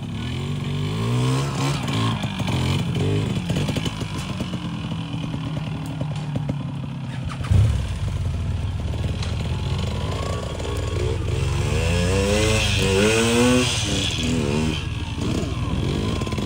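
A vintage Yamaha trials motorcycle revs hard through a wheelie at a national trials round in Nebraska, its engine note rising and falling repeatedly in sharp bursts, loud and close, with a brief thump partway through.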